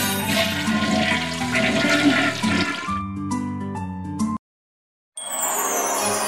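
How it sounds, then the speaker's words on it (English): A cartoon toilet flushes with a loud rushing surge of water that cuts off into brief silence, then a lighter refilling trickle follows, with no voices over it. "Push the lever and flush the toilet."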